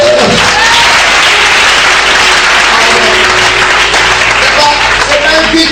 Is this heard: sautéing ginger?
no